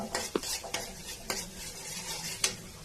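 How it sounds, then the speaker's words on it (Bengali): Sliced onions fry in hot oil in a kadai for a prawn dopeyaja, a steady close sizzle broken by several sharp scraping stirs and metal clinks of a spatula against the pan. "আমি এখন কড়াইতে তেল দিয়ে নিলাম, তারপরে পেঁয়াজ দিয়ে দিচ্ছি। পেঁয়াজটা কিছুক্ষণ নেড়ে ভাজা ভাজা করার পরে"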